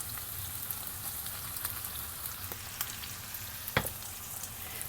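Ground beef fries in a pan with pasta sauce just added, giving a quiet, continuous sizzle broken by small pops and crackles.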